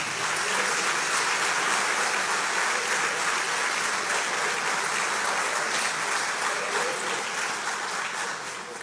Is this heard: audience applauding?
yes